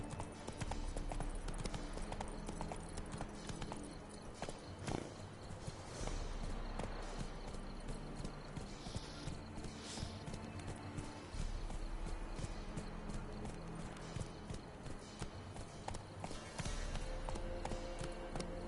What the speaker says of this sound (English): I've discovered that the horse really doesn't like water. Run, Roach.